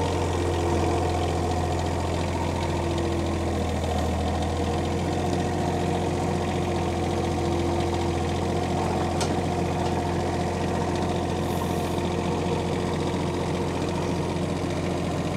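Engine of auction machinery idling steadily, a loud, constant low hum and rumble with a faint regular knock and no voices, holding unchanged throughout.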